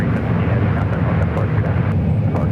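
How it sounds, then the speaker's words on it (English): A Boeing 777-300ER jet taxis at San Francisco airport, its engines giving a continuous low roar with a steady whine, moderately loud and heard alone. "Eastern at 777-300ER now starting its taxi"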